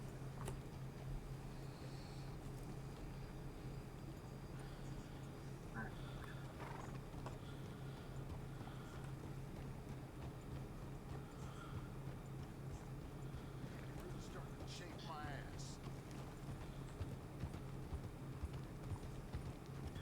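Horse hooves clip-clop steadily at a walking pace on a trail ride in the Red Dead game, soft and continuous with a low steady hum underneath and no talking.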